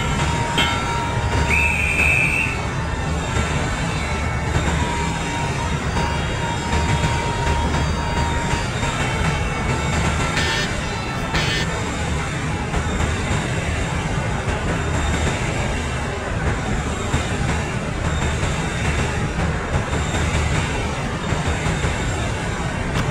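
The Rajdhani Express rolls out of Chennai Central station, a steady low rumble of wheels and carriages that continues throughout, with brief metallic squeals and clanks rising over the moderately loud train noise.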